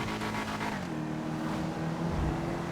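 An Albany V-STR car engine in GTA 5 Online revving up through the gears, with a steady droning tone that drops in pitch at a shift and climbs again, close and continuous.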